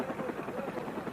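A helicopter in archival footage of the Vietnam evacuation gives off a steady, muffled rotor chop, moderately loud and continuous across the brief moment.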